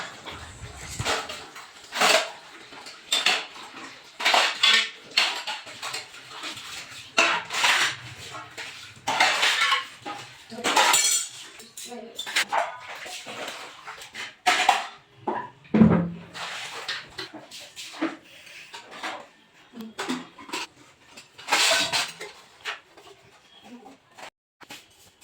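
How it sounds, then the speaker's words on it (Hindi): Steel dishes, pots and utensils being washed by hand in a home, with repeated clattering, scraping and clinking bursts at an uneven, hurried pace, close by, and a dog barking now and then in the background. "तो चलिए बर्तन धो लेते हैं जल्दी जल्दी"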